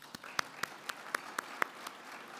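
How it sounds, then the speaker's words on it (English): A handful of sparse, separate claps ring out at an awards ceremony for healthcare workers, spaced about a quarter second apart, fairly faint in a quiet room. "Please join me in giving them another round of applause"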